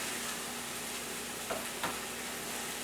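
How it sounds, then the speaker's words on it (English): Okra gumbo simmers and sizzles softly in a pot as it is stirred, a steady low crackle with two brief scraping clicks of the spoon near the middle. "Right now we're going to continue to stir it."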